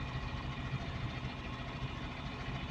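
Engine of a Caterpillar 950H shovel with low power, running during injector testing: a steady, close idling rumble with a faint regular throb and no talk over it.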